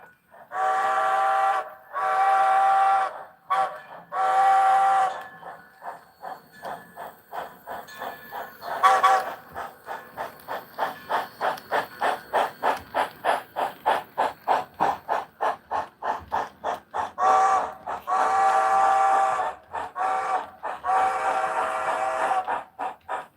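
Model standard gauge steam locomotives run with repeated loud steam whistle blasts, then a long even chuffing rhythm that speeds up before more whistle toots, nearby and clear.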